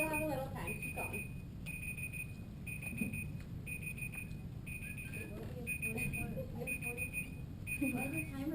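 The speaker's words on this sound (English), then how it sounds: "Why is the timer going?" A timer alarm beeps in a steady repeating pattern of short high electronic tones, running continuously at moderate volume under people talking and background noise.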